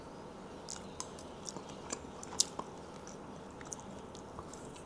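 Someone chews a mouthful of thinly sliced spicy Hunan-style stir-fried beef, with faint, close, wet chewing and a few small clicks and crunches over near silence. No one speaks.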